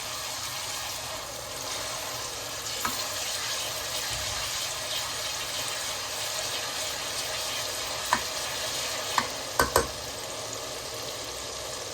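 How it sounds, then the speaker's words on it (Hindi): Meat sautéing in a pot for namkeen gosht, a steady low sizzle running throughout, with a few sharp clinks or scrapes standing out near the end. "इसके अंदर अच्छी तरह सौते कर लेते हैं।"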